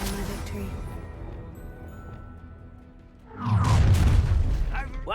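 Confringo fire spell in Hogwarts Legacy: a quieter rumbling stretch, then a loud booming explosion bursts in and rolls on with crackling debris, speech faintly mixed underneath.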